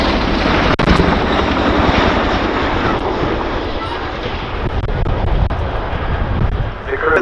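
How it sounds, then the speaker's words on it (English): A Chinook helicopter at an airshow: a loud, throbbing roar with rapid rotor beats, close and powerful, holding steady as it passes by. "you may well feel the sound of the Chinook"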